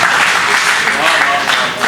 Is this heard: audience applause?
yes